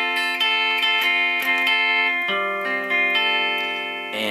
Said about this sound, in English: It's gonna look and sound like this for the G11th.